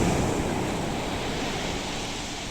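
Sea waves wash onto the seashore in a steady, broad rush of surf, with wind buffeting the microphone and no talking.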